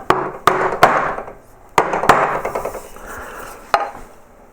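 A chisel struck into wood while carving Gothic letters, sharp knocks in an uneven series of about seven blows, close and loud, with resonant ringing between strikes and no talking.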